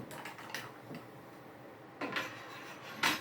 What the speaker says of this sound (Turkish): kokteylini karıştırdım